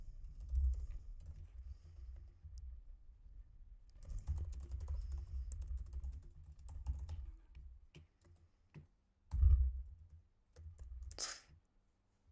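Keystrokes on a computer keyboard come in short irregular bursts while code is entered, close and moderately quiet, with a few louder thumps and pauses between runs of typing.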